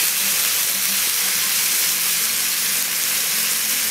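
Pork loin chops sizzle steadily on a rocket stove, a continuous loud frying hiss with no pauses and no talking.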